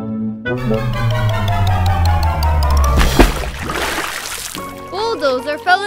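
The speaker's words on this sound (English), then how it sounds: "Bulldozer fell into the river." A toy bulldozer tumbles off a broken bridge and splashes into a river, a broad burst of splashing and sloshing water midway that fades into lapping, set against a steady low drone and toy-like tones.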